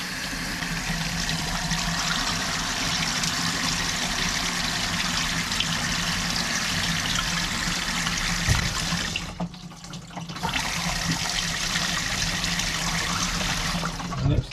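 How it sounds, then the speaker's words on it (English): A toilet aboard an aircraft being converted is flushed, giving a continuous loud rush of water that briefly drops out near the end before surging again, with no one talking. "It should flush the loo as such, so we'll just give it a little test."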